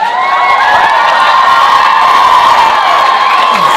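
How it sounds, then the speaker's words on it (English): A stand-up comedy audience cheers and whoops loudly and steadily, a dense wall of shouting voices with no pauses. "Why are you applauding?"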